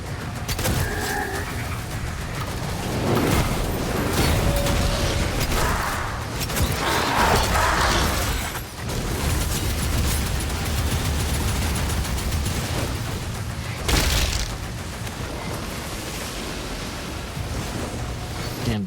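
Cannon fire and explosions in the video game Doom: The Dark Ages, heavy booming blasts and bursts rolling over a dense, loud battle din for the whole stretch.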